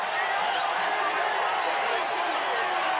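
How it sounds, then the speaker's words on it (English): East Carolina fans up and cheering in a stadium during a 1996 college football game against Miami, a steady, dense crowd roar sustained throughout with a few whoops rising above it. "the faithful from East Carolina who have come down here are up and cheering"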